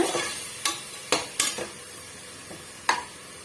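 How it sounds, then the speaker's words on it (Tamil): Masala frying in a pan for mutton gravy while being stirred, with a handful of sharp spoon scrapes and clinks over a faint, quiet sizzle. "இந்த பச்சை வாடை போகிற வரைக்கும் நல்லா வந்து இது போல் வறுத்து விடுங்க"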